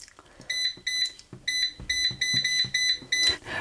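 A series of short electronic beeps from an air fryer timer, tone pairs repeating in quick succession about eight times, with soft button clicks between them, close up.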